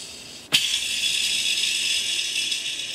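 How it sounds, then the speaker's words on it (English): Matchbox toy car wheels spun by hand, a sudden click followed by a steady, close whirring rattle that holds for a few seconds and slowly fades. "I took a Matchbox car, and on both sets of tires, I spun both sets of tires."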